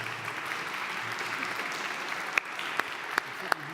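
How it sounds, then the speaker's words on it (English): Audience applause at the opening plenary session of a 2016 conference, greeting co-chairs coming to the podium: a fairly faint, steady wash of clapping with a few sharper, louder claps near the end. "Please come with your applause"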